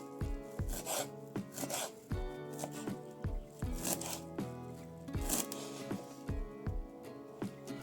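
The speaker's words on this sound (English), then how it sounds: "Let's chop some herbs right away." A knife chops herbs on a cutting board with quiet, uneven taps and short rasping rubs against a musical background, with no talk.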